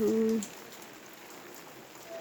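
Steady rain falls around a house, a soft, even hiss of drops that holds at a moderate level. A brief voice rises over it at the start.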